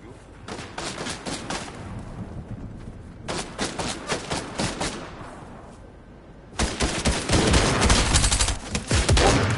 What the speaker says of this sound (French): On tire dessus.